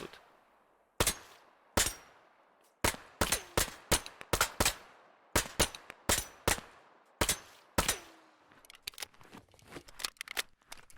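Rifle shots in the military shooter Operation: Harsh Doorstop, a run of sharp single cracks in uneven rhythm, some close pairs, ending in quieter clicks and rattles of handling the weapon.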